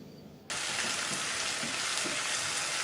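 Ground chili hits hot oil with a sudden loud sizzle after a short quieter moment, then keeps frying in a steady, close, hissing crackle while it is stirred.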